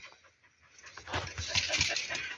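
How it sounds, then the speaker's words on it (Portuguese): A dog breathes and pants close to a phone outdoors on a farm, with soft quick huffs that grow louder and denser halfway through, then continue unevenly. "Aqui tem uma cachorra que fica respirando perto do celular"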